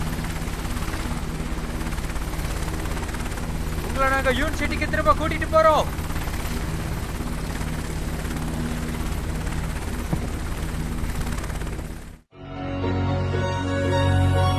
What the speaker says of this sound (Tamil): ஹெலிகாப்டர் டேக் ஆஃப் ஆக போகுது.